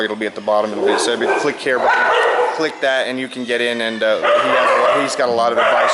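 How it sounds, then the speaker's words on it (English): Several dogs bark and yip repeatedly, close and fairly loud, mixed with whimpering, while a person keeps talking over them. "Excuse, I'm sorry about my dogs."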